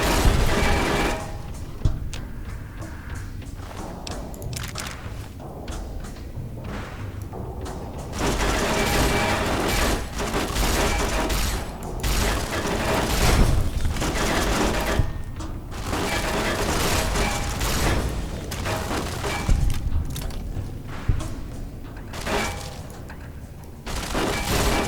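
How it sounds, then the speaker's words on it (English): Turrets open fire on the player in Fallout New Vegas, a sustained mechanical rattle of rapid gunfire and booms that runs almost without pause, moderately loud and dense. "I get lit up by a bunch of turrets"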